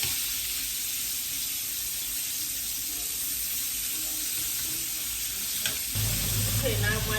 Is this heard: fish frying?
yes